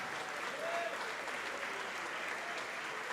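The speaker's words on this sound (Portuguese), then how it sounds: "vamos aplaudir ao Senhor Jesus por cada vida que está chegando" A church congregation applauds steadily, a dense wash of clapping from a large crowd that carries on evenly throughout, with faint voices mixed in.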